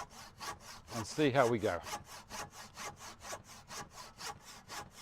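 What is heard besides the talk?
handsaw cutting wood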